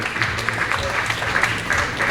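A room full of people at a rally press conference claps continuously, dense and steady applause with no pauses.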